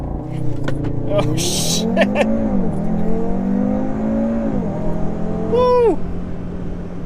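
A 2018 Audi RS3 launches hard and accelerates up through its gears, the engine note climbing loudly, dipping at each shift and climbing again, while excited voices whoop from inside the car.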